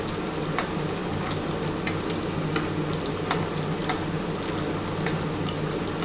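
Soybean and potato cutlets frying in a pan, a steady close sizzle with scattered sharp pops and crackles throughout, no voices.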